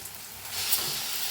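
Eggplant bharit mixture for a Maharashtrian-style roasted brinjal dish sizzles steadily in a hot pan while it is stirred and roasted, a continuous close frying hiss with faint stirring scrapes and no talking.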